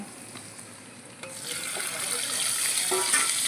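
Chopped tomato goes into hot oil beside fried potatoes; a quiet hiss swells after about a second into a louder, continuous frying sizzle with a few faint clinks.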